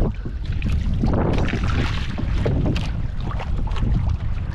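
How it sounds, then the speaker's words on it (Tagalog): Strong wind buffets the microphone in a steady, loud roar over open water while fishing from a small boat, with a constant rushing wash and no talking. "Malakas yung hangin."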